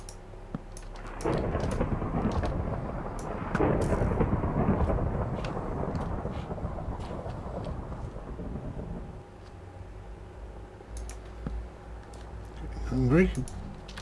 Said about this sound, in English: Still, the thunder goes on.